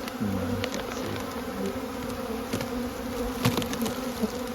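Honeybees buzz in a steady, fairly faint drone inside an opened hive during a spring check, and someone says a few quiet words over the hum.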